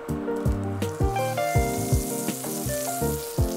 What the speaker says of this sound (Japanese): フライパンにバター 15g を溶かします。